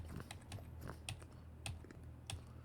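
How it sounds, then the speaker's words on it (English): Someone types unevenly on a computer keyboard, the scattered key clicks coming close and quiet over a faint steady hum, with short pauses between bursts. "Excuse my brilliant typing."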